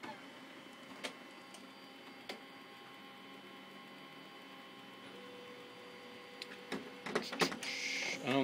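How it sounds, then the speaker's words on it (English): A printer prints out a settings page: a faint steady hum with scattered ticks and clicks, building into louder mechanical feeding and whirring near the end, with no talk. "it's printing that page out directly from the printer"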